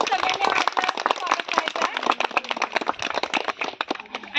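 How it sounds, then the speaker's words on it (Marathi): Dense, rapid clapping from a group at a school celebration of International Women's Day, running steadily throughout with voices talking over it. "सगळ्यांनी टाळ्या वाजवून सगळ्यांनी"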